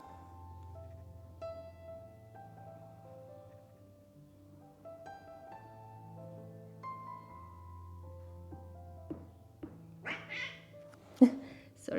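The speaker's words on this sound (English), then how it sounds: "Sorry for my cat." A cat meows a few times near the end, sharp and close, over a soft background of sustained tonal music.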